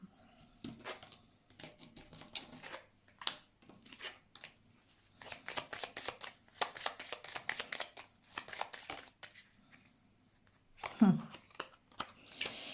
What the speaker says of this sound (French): Je vais mettre des cartes, d'accord?